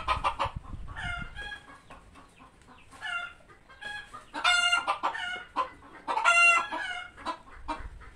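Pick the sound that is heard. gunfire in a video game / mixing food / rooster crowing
rooster crowing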